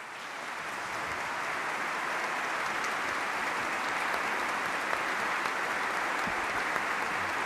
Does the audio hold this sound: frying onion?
no